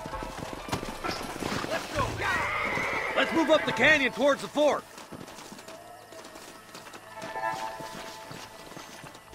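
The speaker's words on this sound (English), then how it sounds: "leave the horses here and follow me." Horses in the video game Red Dead Redemption 2 clip-clop and let out a loud whinny partway through, mixed with game ambience while someone talks over them.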